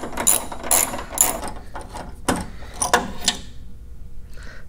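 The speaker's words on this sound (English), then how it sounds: "now let's go ahead and put our extension on and get these last bolts out" Ratchet wrench with an extension removing bolts on a Hummer H3, several quick bursts of sharp ratcheting clicks with short pauses between, close and loud, no talking.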